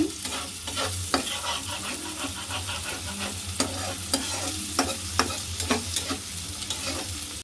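Onions frying in a pan after fish has been fried, a steady close sizzle with frequent sharp spatula scrapes and taps against the pan.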